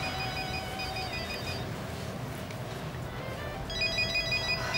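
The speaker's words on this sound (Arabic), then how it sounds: "ما ترد على الموبايل." A mobile phone ringtone sounds in a drama scene, repeating a bright electronic melody in short bursts over a low background hum, clear and fairly close with no talking.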